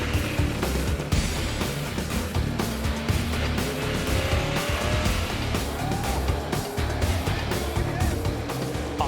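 NASCAR race car driving hard through a chicane on a road course, with loud roaring engine, shifting revs and tire noise from other cars, under a voice speaking over the action.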